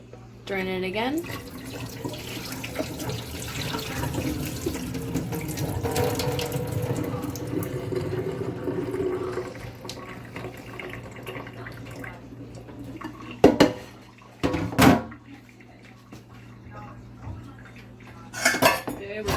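Rinsed cooked potatoes drained again in a kitchen sink: steady rushing water and a wet, splashy wash, then a few sharp metallic clanks of a pot against the sink near the end.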